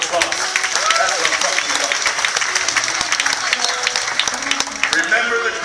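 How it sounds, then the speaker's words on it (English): A crowd claps for itself after a group chant, a busy, continuous wash of applause with sharp individual claps standing out, mixed with voices and some singing tones underneath. "Give yourself a big round of applause"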